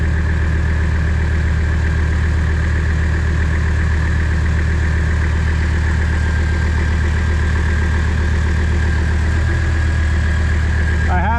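A Mercedes OM617 diesel engine idles steadily inside a Bayliner boat, a loud, continuous low throbbing hum with a constant mechanical vibration and no change in pace.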